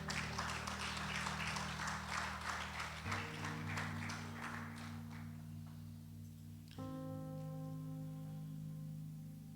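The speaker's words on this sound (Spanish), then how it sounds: "Den un aplauso al Señor, hermanos." A church congregation claps in a brief burst that fades within a few seconds, underlaid by sustained organ or keyboard chords that continue after the clapping dies away.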